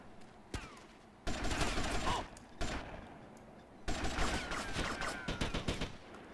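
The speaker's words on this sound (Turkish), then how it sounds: "Birileri yüksekten sıkıyor." Gunfire from a sniper above in GTA Vice City, rapid cracking bursts in several loud clusters with short gaps between them.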